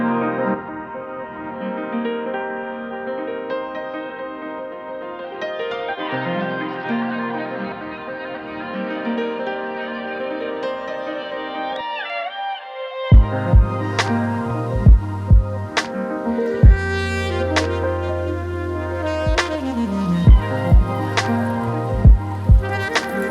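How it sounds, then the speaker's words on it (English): An electronic remix stitched from sax and watery piano textures: sustained melodic tones and layered chords play alone at first, then punchy beats and bright percussive hits enter partway through, with drip-like plinks over a steady groove. "I came up with a remix that sounds like this"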